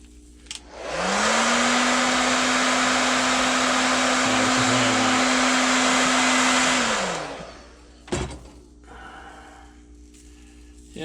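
A heat gun blows a loud, steady roaring hiss for about six seconds while heat-setting iridescent paint on a dragonfly blank, then cuts off, leaving a short clatter and quiet room noise.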